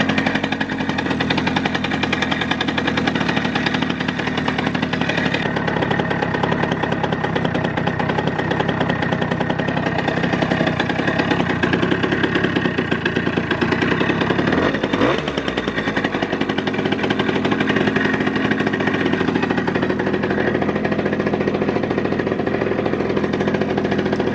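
A Chart Typ 210 scooter engine runs on its own at a steady, loud idle, a buzzing two-stroke-like drone with a brief rev swell midway before settling back.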